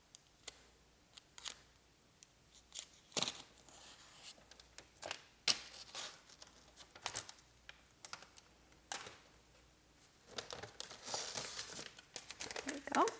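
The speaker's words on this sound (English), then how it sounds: "I'm going to see if I can just take some tweezers and go ahead and remove all the paper now." Sublimation paper is peeled off a hot mug with tweezers, giving soft crinkling and scraping bursts at irregular intervals, close and quiet, with busier rustling near the end.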